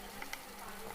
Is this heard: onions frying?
yes